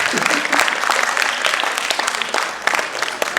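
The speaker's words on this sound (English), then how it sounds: "I want to hear your clap now" An audience at the Nrityaaradhana 2022 dance event claps steadily together for a few seconds, a dense wash of hand claps with no pauses.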